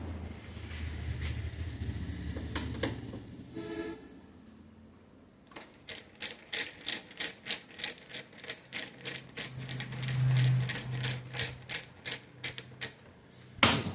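Screwdriver working a screw loose on a printer, heard as a rapid run of sharp ratcheting clicks in an even rhythm, close and fairly loud, with duller handling knocks and rustle before it and no talk.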